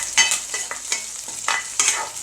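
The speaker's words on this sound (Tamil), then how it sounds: "வெங்காயத்தை நல்லா போட்டுட்டு வெங்காயத்தை நல்லா வதக்கிக்கோங்க" Onions stirred and sizzling in a hot pan with curry leaves for a drumstick-leaf stir-fry, a steady frying hiss broken by several close, sharp scraping stirs, with no talk.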